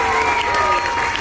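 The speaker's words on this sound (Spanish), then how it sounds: "¡Fuerte el aplauso!" Audience applause, a steady dense wash of clapping at a lively street performance, loud and continuous for a brief moment.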